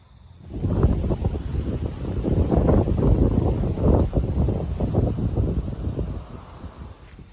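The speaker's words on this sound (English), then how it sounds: "It's a very cold, windy day today." Strong gusting wind on a cold day at Onoke Scenic Reserve buffets the microphone steadily for several seconds, a loud, rumbling roar with no voices.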